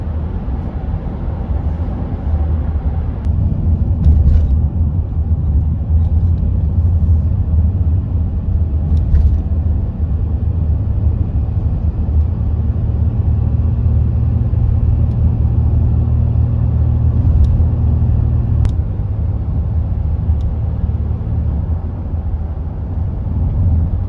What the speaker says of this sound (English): I'm gonna drive all the way through Banff National Park up into Jasper